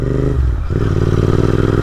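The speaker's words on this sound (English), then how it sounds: "you might hear the sound a bit too loud than the usual stock Interceptor" Royal Enfield Interceptor 650 motorcycle fitted with an aftermarket exhaust, a loud, steady idling rumble with a deep twin-cylinder throb and a brief dip before it settles back into a continuous rough burble.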